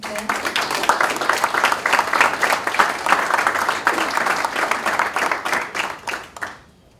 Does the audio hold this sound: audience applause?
yes